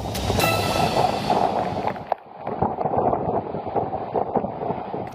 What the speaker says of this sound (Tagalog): Kita mula sa kuha ng isang netizen ang malakas na hangin sa munisipalidad ng Calayan na dulot ng Bagyong Julian